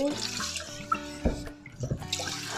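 Cooking pans being washed under a running kitchen tap, with water splashing and clattering close by over a couple of seconds, and some background sound mixed in.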